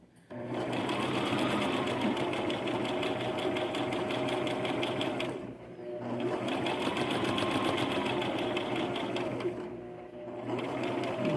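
A sewing machine stitches the side seams of a Simplicity S9603 pattern garment, a loud, steady, close-up motor whir with rapid needle clatter, running in long stretches broken by two short pauses.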